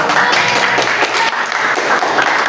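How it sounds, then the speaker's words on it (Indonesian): A class of students applauds together in a room, a dense, steady wash of clapping held at full volume for a couple of seconds with no talk over it. "Sebelum saya akhiri, tepuk tangan dong"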